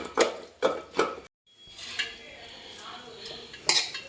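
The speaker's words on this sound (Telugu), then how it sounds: "తర్వాత ఇలా టమోటాలు కూడా మెత్తగా దంచుకోవాలి." Tomatoes and tamarind are pounded in a stone mortar, giving three sharp, evenly spaced thuds up close, then a brief pause and softer grinding and scraping with a final knock.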